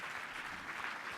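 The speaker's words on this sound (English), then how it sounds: "Round of applause." An audience at a business awards ceremony gives a brief, even burst of applause, a dense wash of many hands clapping at steady volume with no voices standing out.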